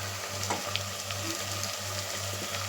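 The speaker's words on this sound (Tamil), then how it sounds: "அது நல்லா வெங்காயம் வதங்கி வரட்டும்" Onions sizzling and frying in a pan on the stove, a steady hissing crackle with a low background hum and a few soft stirring clinks.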